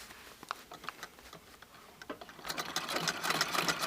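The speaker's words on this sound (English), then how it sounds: "my feed dogs are not going to move hardly at all when I'm stitching with the stitch length at that point" A sewing machine stitches at a very short stitch length, so the feed dogs barely move. It makes a steady rapid ticking chatter that grows louder and busier partway through, close by.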